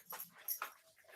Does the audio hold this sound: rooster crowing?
no